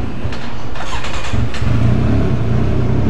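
A Kawasaki Z750 motorcycle engine revs loudly and close by, holding a steady throbbing roar with a few throttle blips, and no voices are heard.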